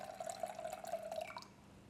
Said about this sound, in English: Let's dispense a little so you have a feel for what to expect.